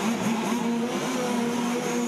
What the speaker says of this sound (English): the cars start their engines